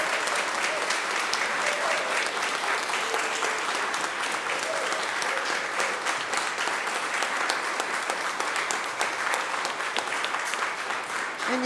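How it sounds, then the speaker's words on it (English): A church congregation applauds its new members at a Music Sunday service, sustained thick clapping that runs the whole time at an even, fairly loud level. "Please give our new members a round of applause."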